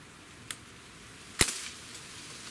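A CO2-powered Crosman BB air rifle fires two sharp cracks, a faint pop followed about a second later by a louder, close snap with a brief hiss of release, over a quiet background.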